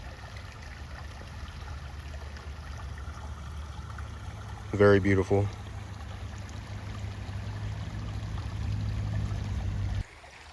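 Clear Oklahoma stream flowing steadily as a constant low rush close by, with a person briefly speaking partway through.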